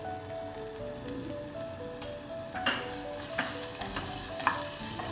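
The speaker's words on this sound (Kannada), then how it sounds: "ಈಗ ನಾನು ಆನಿಯನನ್ನು ಹಾಕ್ಕೊಳ್ತಾ ಇದ್ದೇನೆ." Onions drop into a pan of browned crushed garlic and sizzle steadily, a soft continuous frying hiss with a few stirring scrapes and taps, quiet and close with no talking.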